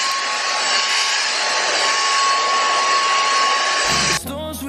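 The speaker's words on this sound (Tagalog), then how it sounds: "Wait, i-vacuum lang natin. I-vacuum lang natin to kasi kanina pa to." A household vacuum cleaner runs steadily and loudly with a constant whining hum for about four seconds, then cuts off abruptly as other sounds take over.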